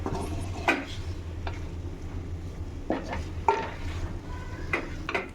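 A spoon stirs chicken roast masala in a pan, scraping the metal in a few distinct strokes over a low steady sizzle, close by.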